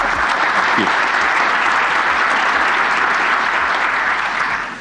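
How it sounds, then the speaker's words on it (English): Conference audience applauding together, a dense, steady wash of many hands clapping at close range that holds for nearly five seconds before beginning to fade. "I hope that's not the last bit of applause that I get"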